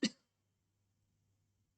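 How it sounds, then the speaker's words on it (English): One short, sharp cough close to the microphone at a drawing desk, followed by near silence with a faint low hum. "apparently a cough"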